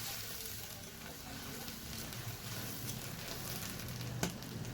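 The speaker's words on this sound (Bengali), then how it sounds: "পেঁয়াজটা হালকা একটু ভেজে নেব।" Onions crackle and hiss gently in a hot pan, a soft continuous sizzle with an occasional sharper pop, close and steady with no talking.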